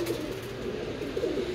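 Cooing of a freshly caught, dye-marked pigeon, a low soft rolling coo held close and repeated twice across a brief moment, with no talk.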